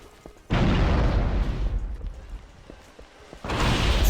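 A grenade goes off in the video game Abiotic Factor with a sudden loud boom, rumbling on for about three seconds before a second blast hits near the end, with no talking.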